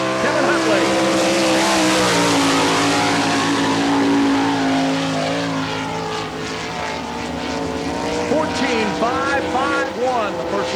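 Sprint race cars lap a dirt speedway at an All Star Circuit of Champions Florida Speedweek event in Barberville, with loud, high-revving engines droning continuously and rising and falling in pitch as cars pass, under an announcer's commentary.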